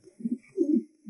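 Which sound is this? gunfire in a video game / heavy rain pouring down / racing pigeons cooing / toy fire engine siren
racing pigeons cooing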